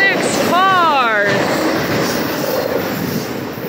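A BNSF freight train of autorack cars, led by BNSF 5093 and Ferromex 4062, rolls past near Callao, Missouri, on the Brookfield Sub: a steady close rumble with a brief wavering tonal whine early on.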